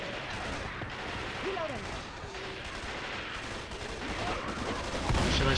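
Zombie-shooter gunfire in Left 4 Dead 2's Dark Carnival concert stage, with fairly faint, dense shots and bursts running through a busy, noisy game mix.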